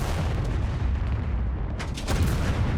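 Heavy tank cannon fire in the Second Front video game during a tank battle for Caen, shells striking a Panzer IV: a dense rumbling barrage of booms with a sharper impact crack near the end.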